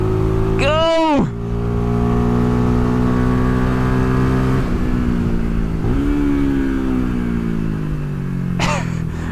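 Engine of a Venom 250cc motorcycle revving hard while ridden, loud and close: a sharp rising rev at the start, then a sustained droning pull with shifting pitch and another rev near the end.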